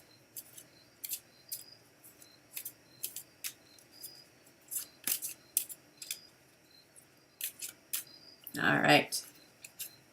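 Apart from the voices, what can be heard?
cards being shuffled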